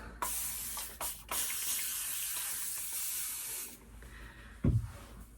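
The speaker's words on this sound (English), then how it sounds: "So I'm going to go in and actually add more water back in." Water spritzed onto wavy curly hair from a spray bottle, giving a long steady hiss with a few short bursts before it, then a soft handling thump near the end.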